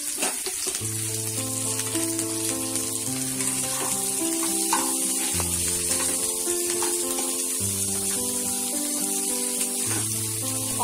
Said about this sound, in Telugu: ఆనియన్స్ బాగా ఫ్రై అయ్యే వరకు వేగనివ్వాలి